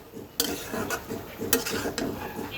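A spatula mixes cabbage with fried aair fish head in a cooking pan, giving a few clanking scrapes of metal against the pan over a soft background sizzle.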